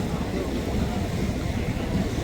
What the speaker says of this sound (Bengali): শত বছরের পুরনো স্টিমার ঢাকা থেকে ছেড়ে আসছে।